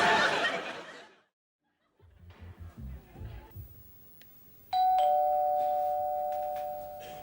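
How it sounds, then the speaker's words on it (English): A doorbell in a London flat sounds once as a sharp electronic ding that rings on and fades slowly, following a burst of laughter and some brief indistinct talk and movement. "Is that the bell, Del?"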